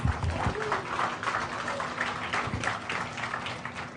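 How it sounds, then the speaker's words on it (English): Crowd applause at a Bassmaster Elite bass fishing weigh-in on Lake Hartwell, a steady wash of clapping with some cheering that carries through the whole stretch, fairly loud and close, with no clear speech on top. "Give yourselves a big round of applause."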